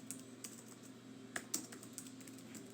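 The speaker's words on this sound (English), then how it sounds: "Sorry for my typing again." Quiet clicking of keys on a computer keyboard, several irregular taps with a couple of sharper strokes, faint and close against a low background hum.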